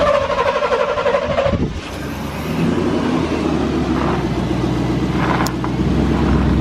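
The engine of a 1987 Chevy C10 truck, abandoned for over ten years, is put in drive, its loud idle shifting to a lower, heavier rumble that then runs steadily close by, with no talk.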